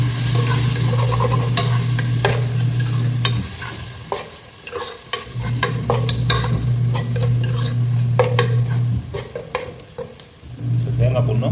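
Tamarind stirred into a frying village-style fish curry of fried aila (mackerel) fish: steady oil sizzle with repeated scraping stirs and clinks of a spoon against the pan, the frying dropping out briefly twice between bursts.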